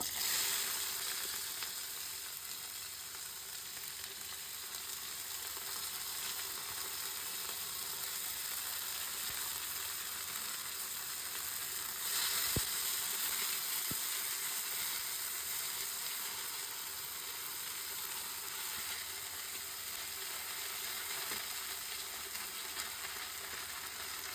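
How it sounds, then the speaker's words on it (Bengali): Onions fry in hot oil for a fish dopiaza, producing a soft, even sizzle that hisses continuously at low volume with a couple of faint clinks and no talking. "তেল গরম হোক এখন আমি দিয়ে দিব পেঁয়াজ"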